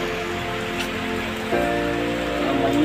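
Steady rain falls on a surface, a continuous close hiss with dense patter, a little louder in the second half, and no voices.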